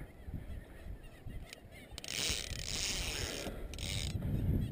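Seabirds call from the water near a small fishing boat with a 15 hp Evinrude outboard, sounding as repeated honking, ratchety cries that thicken into a steady chorus over faint background noise.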